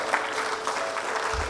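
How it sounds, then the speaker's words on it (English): Audience applause at a debate championship grand finale, a steady wash of clapping that holds evenly through the moment, fairly close and fairly loud. "Please put your hands together for him."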